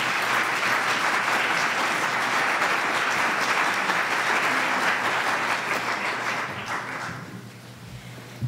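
A seated audience applauds steadily to welcome Dr. Heather Johnson before a heart-health talk, a dense wash of clapping that holds strong for several seconds and then thins out near the end.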